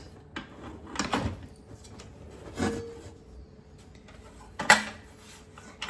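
Plastic mixing trays click and clatter onto the sides of a STRADA Mark II plein air easel, several short sharp knocks and rattles spaced apart, close and fairly quiet.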